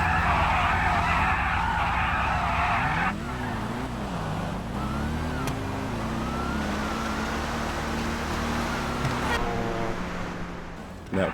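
A car in a GTA video game street drag race does a burnout launch: a high tire screech at first, then a rising, shifting engine whine with gear changes, steady and fairly loud.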